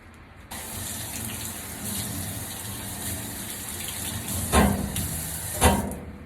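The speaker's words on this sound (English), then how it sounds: "Now that the 2 to 3 minute hand wash has been completed" A surgical hand wash under running tap water in a surgical set-up: a tap turns on and then flows steadily for several seconds, with a couple of louder splashes as hands move through the stream near the end.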